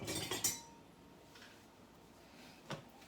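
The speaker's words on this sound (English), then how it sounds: "let me get a spatula" A spatula and dishes clink as they are fetched in a home kitchen: a few quick bright metallic clinks at the start, then quiet, with one more faint knock near the end.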